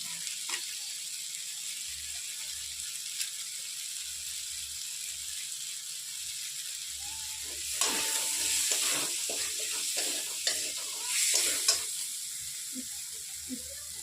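Kashmiri chili and spices frying in a pan, a steady soft sizzle throughout with occasional stirring scrapes and brief louder crackles, no talking.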